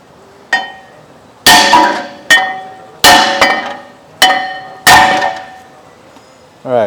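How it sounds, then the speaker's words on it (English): Loud metallic hammer blows ring out while hammering out a front brake part on an Audi Q7, about six strikes at uneven intervals, each clanging and decaying, close by in a quiet space. "we're going to hammer it out"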